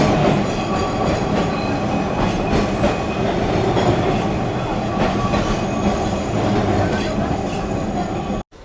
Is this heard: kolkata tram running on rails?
yes